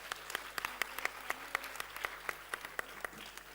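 An audience at a 21st anniversary event applauds a doctor, with steady broadband clapping running throughout and sharp individual claps standing out above the crowd.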